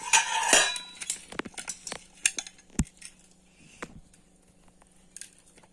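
Fried chicken tipped from a cooking pan into a separate bowl, with a cluster of metal spoon-on-steel clinks and scrapes at the start, then scattered lighter clatters and taps that thin out toward the end, close by, with no talk.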